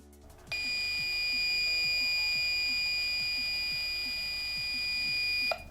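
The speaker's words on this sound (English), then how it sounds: "It is a single prolonged beep without being followed by a Morse code-like signal." A wildlife tracking collar gives a single long, high-pitched electronic beep on activation, holding steady for about five seconds, then cutting off, with faint low clicking underneath.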